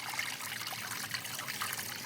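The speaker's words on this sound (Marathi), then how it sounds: "पर्याचा आवाज बघा कसा तो पाण्याचा" Water in a flowing stream trickles and gurgles steadily, a soft continuous wash of sound with nothing else standing out.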